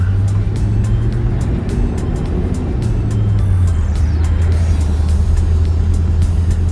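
1963 Pontiac Grand Prix with a 389 V8 and rebuilt AFB carburetor pulling out into traffic, a steady loud engine hum with a gear change partway through, heard from inside the car.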